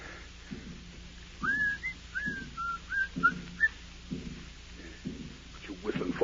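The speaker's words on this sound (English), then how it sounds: "What you whistling for, you fool?" A man whistles a short tune in a stage drama, a run of clear melodic notes with a spoken voice alongside in the room.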